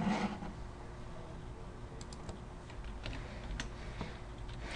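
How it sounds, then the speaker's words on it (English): Numbers are typed on a computer keyboard at a desk, a quiet, irregular patter of light key clicks with small pauses, close by and alone without talk. "And so now I can type in numbers"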